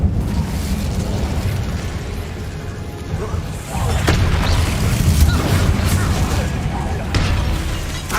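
A fiery Incendio spell blast from Hogwarts Legacy erupts as a loud booming burst with roaring, crackling flames that swell and continue over a dense rumbling bed.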